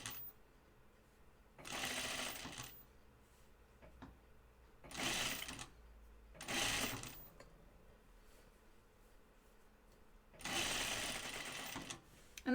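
A sewing machine stitching plaid fabric for a button-up shirt runs in four separate bursts of fast whirring, each lasting a second or two, with quiet pauses between them, close and clear.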